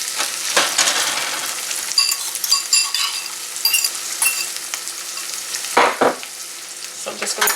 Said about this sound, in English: So there goes my saltfish in my pot